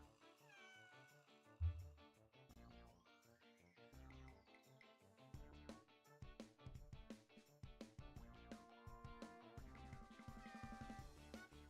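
Cartoonish cat meows from the Silly Linguine Cat Simulator video game, several in a row, mixed in with busy, tonal game music at moderate volume.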